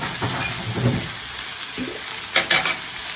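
Bean sprouts stir-fried in a hot pan, a steady close sizzle punctuated by several scraping stirs and tosses of the spatula.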